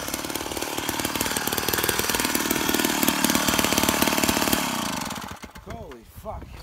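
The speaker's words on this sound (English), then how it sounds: "But the auger man ain't doing a good job." A gas-powered ice auger drills through frozen lake ice on a Wisconsin lake, its engine roaring loud and steady for about five seconds before it cuts off, and then a voice is heard briefly.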